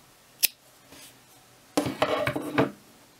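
A short single snip followed by a cluster of rustling, scraping handling sounds as wool yarn is cut and finished off in crochet work, close and fairly quiet, no talk.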